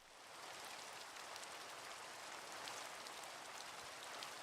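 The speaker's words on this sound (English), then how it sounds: "Here we have rain, and we have actual sounds." Steady rain from a C++ Minecraft clone video game, a continuous even hiss of falling drops that holds at a constant level with no voices.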